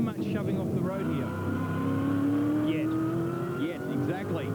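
V8 Supercars from the Fujitsu Development Series race at Phillip Island, a pack of five or six cars roaring steadily with one engine note climbing through a gear, while a commentator talks over it.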